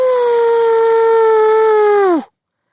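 A single long, loud werewolf howl sound effect in a fantasy audiobook, a steady sustained tone held for about two seconds before sliding down and cutting off into silence.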